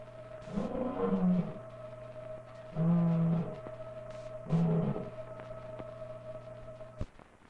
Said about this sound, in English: Can you hear the lion?